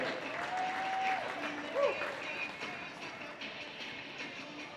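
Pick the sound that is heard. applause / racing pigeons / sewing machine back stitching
applause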